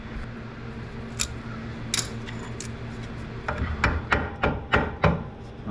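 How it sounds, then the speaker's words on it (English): A hammer pounding a socket onto a bolt on a truck, a series of sharp metallic strikes growing quicker and louder toward the end over a steady low engine or fan hum, nearby with no talk. "I'm gonna take and pound a socket on this"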